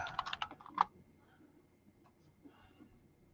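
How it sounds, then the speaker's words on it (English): Short burst of computer keyboard typing while a search is entered, quick clustered keystrokes up close in the first second, then quiet room tone with faint scattered clicks. "Actually, let me just type in Og"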